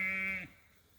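A sheep in a grazing flock eating leaves and clover lets out a single loud, close, steady bleat that stops abruptly about halfway through, leaving quiet background.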